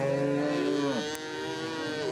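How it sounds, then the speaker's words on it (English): A single drawn-out moo from cattle being herded to higher ground during wild flood weather in New South Wales, loud and close, with a slight dip in pitch partway through and no talking. "a farmer enlisted help to move up to 200 head of cattle to higher ground"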